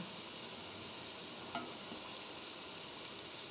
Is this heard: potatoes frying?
yes